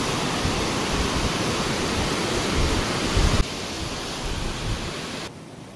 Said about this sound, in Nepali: यो चेल खोला हेर्नुस्